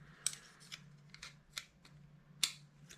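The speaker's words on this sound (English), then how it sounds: "Put my scissors back together" Metal scissors click and snip as their blades are fitted back together, a series of sharp, irregular close-up clicks with brief pauses between them.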